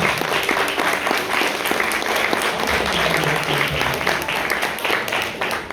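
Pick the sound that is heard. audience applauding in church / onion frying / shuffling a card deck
audience applauding in church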